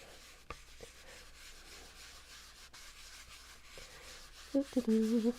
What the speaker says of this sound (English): now I'm going to rub a little bit to remove any excess and wear through some of that texture